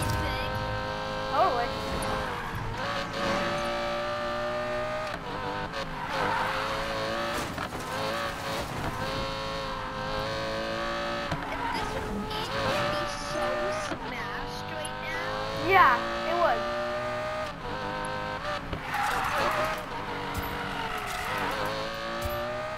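A Lamborghini in the video game Need for Speed Payback revs and roars with shifting engine tones and bursts of tyre skidding, while a person talks over the driving throughout.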